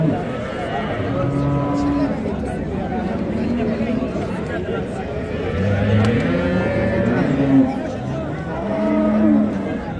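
Cows and calves low repeatedly at the Friday livestock market in Pastdargom, Samarkand, several drawn-out moos rising over a murmuring crowd and nearby conversation.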